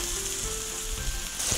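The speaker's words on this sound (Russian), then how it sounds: "Филе чуть-чуть с обеих сторон обжарить на раскаленной сковородочке." Pork fillet sears in a red-hot frying pan, a steady crackling sizzle with small pops and faint scraping, close and continuous with no one talking.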